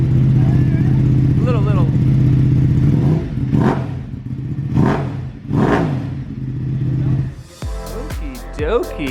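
2021 Ducati Panigale V2 motorcycle engine idling nearby with a steady, throbbing rumble and a few brief revs. Someone talks over it and the engine cuts off near the end.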